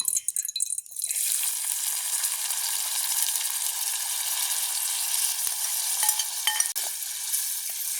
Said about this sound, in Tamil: வெங்காயம் மிளகாய் எல்லாம் வதங்கி கொண்டு இருக்குது